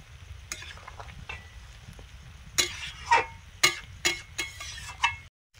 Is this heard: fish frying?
yes